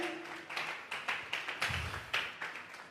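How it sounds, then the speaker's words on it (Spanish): A church congregation at a Sunday service claps in a steady rhythm as an offering of applause, the sharp claps sounding faint and somewhat distant. "Vamos a regalarle ofrenda de palmas al Dios de la gloria."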